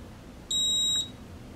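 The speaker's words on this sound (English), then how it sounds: "And that little beep tells me it's listening." A single short electronic beep from a WRMK Emark machine, clean and high-pitched, lasting about half a second against a quiet background.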